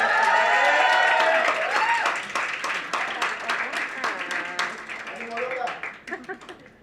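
Audience applause at a book presentation for a novel at the FIL Guadalajara book fair: a dense burst of clapping that gradually thins into scattered claps, with a voice speaking over it.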